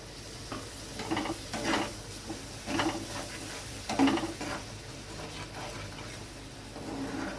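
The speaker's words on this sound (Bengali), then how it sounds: "এবার আমি এতে দিয়ে দেবো পেস্ট করে রাখা নারকেলটা" A spatula stirs coconut paste into frying spices in a pan for a prawn gravy, making rhythmic scraping strokes over a low sizzle, close and steady, with no talking.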